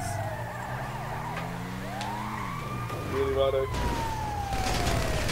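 Ambulance siren in GTA V Online, wailing and sweeping in pitch under steady game engine and traffic noise, with voices chatting over it throughout.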